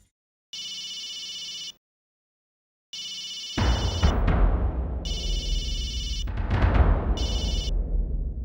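A telephone rings in repeated bursts with short gaps between them, while a loud, broadband wash of sound enters partway through and continues beneath the later rings.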